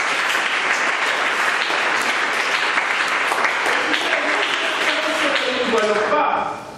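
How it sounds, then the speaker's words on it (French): A church congregation breaks into loud, sustained applause and cheering that fills the space for several seconds, with scattered voices in the mix, before the clapping begins to fade out at the end. "Acclamons Jésus."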